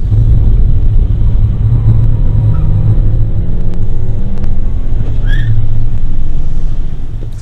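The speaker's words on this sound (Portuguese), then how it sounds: "Olha o barulho que esse pneu fez na minha troca de segunda para terceira." A Ford Ka SE 1.5 on a track day rumbles with steady road and tyre roar while shifting from second to third, loud and close inside the car, with wind buffeting and a brief squeal from the tyres.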